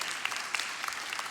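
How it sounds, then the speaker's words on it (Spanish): A church congregation applauds during a service, dense and continuous clapping with scattered sharper claps, moderately near. "Den un aplauso al Señor."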